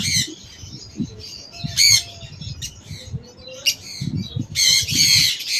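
Fischer's lovebirds, green and lutino varieties kept for sale, squawk in sharp, loud bursts at close range, with several overlapping calls and short pauses between.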